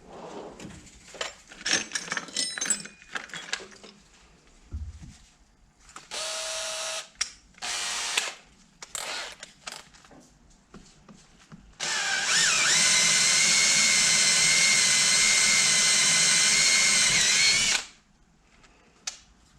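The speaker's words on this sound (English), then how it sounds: "I'll step up to another size drill bit." A power drill bores a hole through the case of a Muncie 4-speed transmission for a drain plug, in several short bursts of whining drilling followed by one long, steady, loud run close up.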